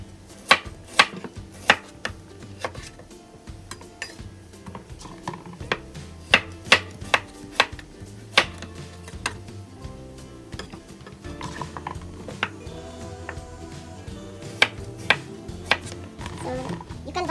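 A knife slices radish on a cutting board while a salad is prepared. Crisp cutting taps come in irregular clusters, close and fairly quiet, over a soft background hum.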